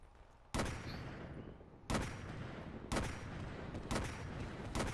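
Gunfire in Black Ops 3 multiplayer, four loud, sharp shots spaced about a second apart, each trailing into a noisy tail over quieter background rumble.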